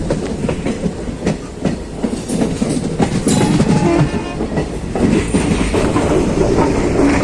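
The Lachit Express train rumbles and clatters steadily along the rails pulling into Kamakhya Junction, wheels clicking, a continuous loud mechanical roar with no voices.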